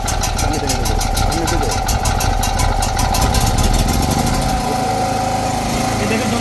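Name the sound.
3 kW gasoline generator running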